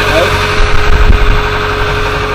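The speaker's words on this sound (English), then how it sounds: "It lets you know when the engine's up to warm-up speed." A vehicle engine idles steadily while warming up, a loud, constant low rumble that runs through the whole stretch with a slight surge in the middle.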